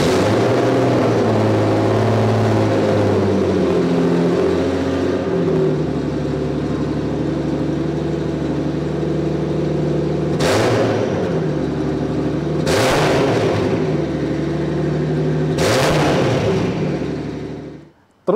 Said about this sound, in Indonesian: Tapi karena udah ganti knalpot, dengerin deh suaranya.